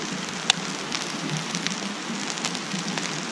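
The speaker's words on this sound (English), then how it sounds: "you can still hear the rain. I guess it's snow or sleet or something. I can't tell what it is. But you can hear it hitting the tarp" Rain or sleet patters steadily on a tarp shelter in the Allegheny National Forest by Minister Creek, a close, dense hiss of fine drops with one sharper tap near the start, with no voices.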